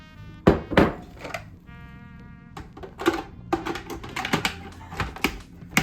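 Irregular sharp knocks of a blade chopping Oreo cookies on a board, quick clusters of hits close by with brief pauses.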